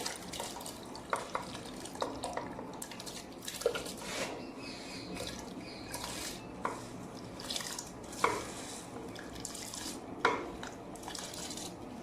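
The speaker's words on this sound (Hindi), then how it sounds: "अभी इसमें डालूंगी मैं चावल।" Rice tipped into a pot of hot water for biryani, heard as scattered light clinks, stirring scrapes and soft wet splashes at close range, with no talking.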